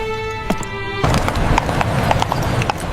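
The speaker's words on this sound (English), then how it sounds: "The horses' hooves clattered against the stones as they hurried through the foggy streets of London." Horse hooves clatter on stone streets as a sound effect, with brisk, close clip-clop beats under a rumbling cab. A short tonal hum fades out near the start.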